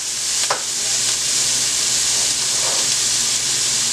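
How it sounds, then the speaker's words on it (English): Onions and garlic saute in a pan, giving a loud, continuous, close sizzling hiss with a couple of brief stirring scrapes. No one speaks. "So right now I'm sauteing the onions and the garlic."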